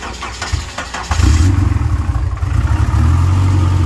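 A race car engine is cranked and fired up for a test, catching after a second of starter whir into a loud, lumpy, heavy idle that rumbles steadily up close.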